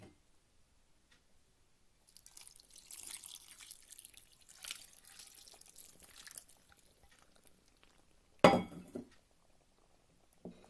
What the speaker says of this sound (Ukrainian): Тепер баклажани заливаю охолодженим маринадом.